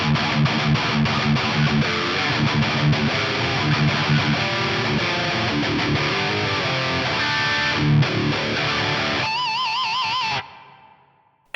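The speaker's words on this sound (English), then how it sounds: "I'm going to bring up the precision drive for this one so we can hear that." A high-gain electric guitar played through an Axe Fx III with the precision drive and a London plate reverb: dense, distorted riffing for about ten seconds, then a final sustained chord with wavering notes that rings out and fades.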